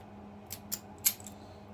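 A padlock is picked by zipping a lock pick across its pins, giving a few quick, faint metallic scrapes and clicks close up over a low background hum.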